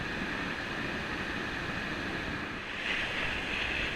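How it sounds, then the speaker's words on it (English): Strong wind buffets the microphone on a sea fishing shore along the Bristol Channel on a breezy spring day, a constant roaring rush with surf underneath that gusts louder toward the end, no voices. "if you can hear me above the ever-increasing wind"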